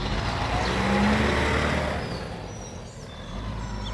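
A truck passes through a quiet nature area, a broad rumbling roar that swells and then fades as it moves away, with no talking.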